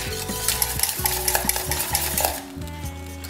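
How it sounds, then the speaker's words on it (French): Banana syrup is stirred in a pan over low heat, with a spoon repeatedly scraping the pan base in a steady rhythm under a soft, continuous sizzle. It is close and moderately loud, with no talking. "on allume le feu à feu doux et on continue de remuer jusqu'à ce que la préparation commence à fumer"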